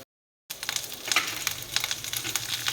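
Black urad dal and toor dal frying in a pan, a close steady sizzle with crackling pops and light stirring, starting after a brief silence.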